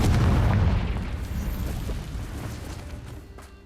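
A Confringo blasting spell from a Harry Potter video game lands as one loud, close explosion whose deep rumble slowly fades over a few seconds.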